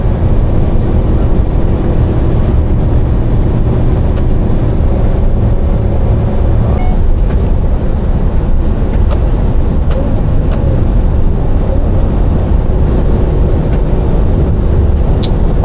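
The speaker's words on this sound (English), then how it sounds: "Getting overtaken by an Arctic going down this bend." An articulated lorry overtakes a van on a downhill bend, heard as a loud continuous road roar with heavy engine and tyre noise filling the whole stretch, a few brief knocks and rattles standing out near the end.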